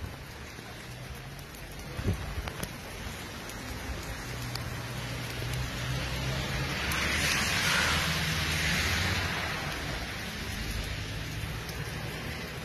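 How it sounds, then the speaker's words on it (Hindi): Heavy rain pouring steadily all day in March, a dense continuous hiss with occasional nearer drip taps, swelling louder in the middle, no speech heard. "बारिश जड़ी है तड़ातड़ पूरा दिन लगी रही है"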